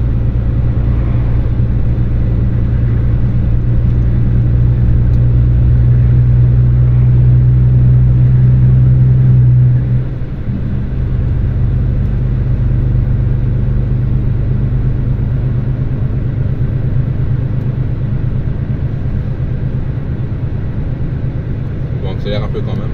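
Truck engine droning loud and close from inside the cab while driving on the road, a steady low rumble with a tonal hum that drops away near the ten-second mark, with people talking over it.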